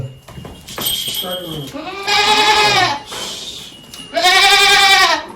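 Nearby goats bleat in several long, wavering cries separated by short pauses, with low rustling and faint voices in between.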